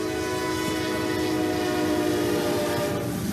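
A train horn sounds steadily as a train rolls past close by, with rumbling wheels and rail noise underneath.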